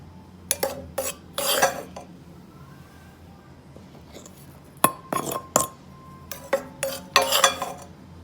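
A spoon scrapes and clinks in a mixing bowl while flour is stirred for orange scones. Bursts of close rattling and clinking come in quick clusters, separated by quieter pauses. No one speaks.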